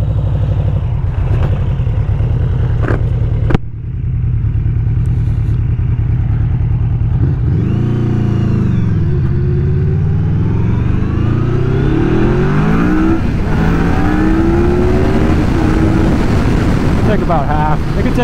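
A 2020 Yamaha Vmax 1700 motorcycle engine idles with a throbbing rumble, then revs up again and again at about half throttle in first gear, pitch climbing as it pulls away, loud and close.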